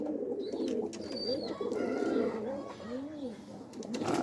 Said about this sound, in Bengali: এই যে রেসার নরকে ডাকা শুরু করে দিছে।